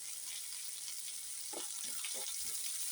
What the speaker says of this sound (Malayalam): അപ്പം നമ്മുടെ ഉള്ളിയൊക്കെ നല്ലതായിട്ട് വഴന്ന് കിട്ടും